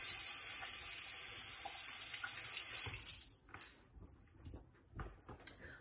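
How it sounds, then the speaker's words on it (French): Tap water runs loud and steady as hands are rinsed at a sink, then the flow stops and a few wet splashes and clatters follow, no talking. "je me rince les mains"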